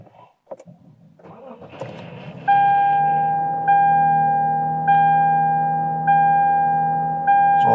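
A 2006-2014 Lexus IS 250/350 engine restarting: a short crank catches and settles into a steady idle, while an electronic warning chime repeats at an even pace over it.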